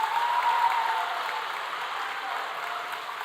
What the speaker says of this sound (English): Let's give a big round of applause to all the PhD graduates.